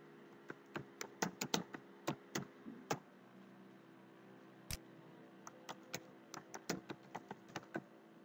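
A computer keyboard clatters as a task name is typed, with irregular bursts of quiet clicky keystrokes, a short pause and then more keys, close by against a low steady hum.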